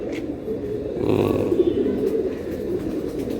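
A silver pigeon coos close by, a steady run of low throaty murmurs that swell slightly in the middle and then carry on evenly.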